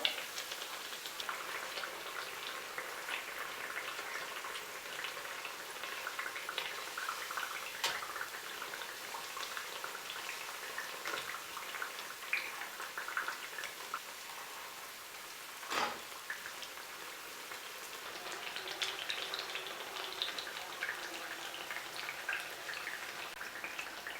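Pappadavada, a Kerala snack, deep-frying in hot oil over a medium flame, giving a steady close sizzle with fine crackling spatter that stays even throughout, with a couple of sharp clicks.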